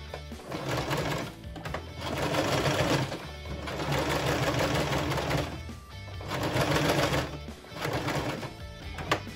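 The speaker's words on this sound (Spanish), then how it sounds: "Le voy a poner una puntada un poquito larga." A sewing machine stitches a tote bag with a slightly long stitch, running in several steady, loud bursts separated by brief pauses as the seam is sewn forward and back.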